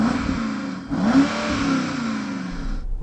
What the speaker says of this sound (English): can you rev up your German V8?